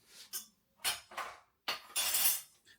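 A metal lasagne container is picked up and set down, giving several short clattering metallic clinks and scrapes in separate bursts, close and fairly quiet, with no talking.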